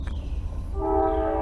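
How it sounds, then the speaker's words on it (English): A train rolls past beside the railroad tracks at a fishing spot, its horn blowing loud and close with sustained tonal blasts over a heavy rumbling of the cars. "I'm fishing by the railroad tracks."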